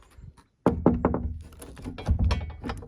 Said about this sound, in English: So when you're a visitor, you come and knock.